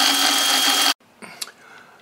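A Precision Matthews PM-25MV mill spindle whines at over 3,100 RPM, a loud steady high-pitched hum that cuts off abruptly, followed by faint clicks and small knocks.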